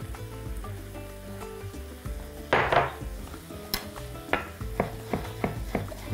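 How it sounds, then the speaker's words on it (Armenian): Eggplant pulp is added to a cooking pan for a beef and eggplant dish, with a soft sizzle under a series of close utensil scrapes and taps against the pan. "Ավելացնում ենք սմբուկի պտղամիսը"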